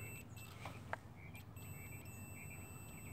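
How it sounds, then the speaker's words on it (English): A continuity tester gives a faint, steady high-pitched beep as its test leads touch together, over a quiet background with a brief click. "You wanna make a beeping noise."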